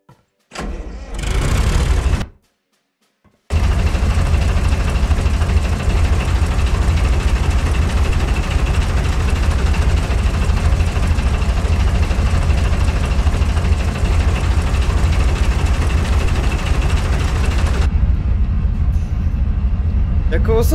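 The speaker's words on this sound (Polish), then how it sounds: "to jest silnik zwykłego traktora o dużej mocy" A heavy, high-power tractor-like tank engine in a tank mechanic video game, for a PzKpfw VIII Maus, turns over and then settles into a loud, steady low rumble that runs on continuously, with a brief gap near the start.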